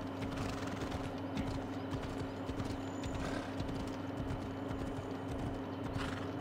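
Horse galloping in Assassin's Creed Odyssey, a steady stream of rapid hoof clip-clops over a constant background hum, faint and continuous, with a brief whinny-like rise partway through.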